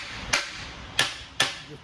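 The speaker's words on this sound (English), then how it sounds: "Tap it with a hammer, seat everything in." Three sharp, evenly spaced hammer taps seat parts into a Spicer DS 404 semi-truck differential with a 3.55 ratio during reassembly, each crisp metallic strike close and distinct against a quiet shop background.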